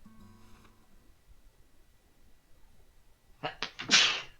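One loud, sharp sneeze bursts out near the end after a soft, faint tone fades at the start, close and alone, in a player's Animal Crossing New Horizons session.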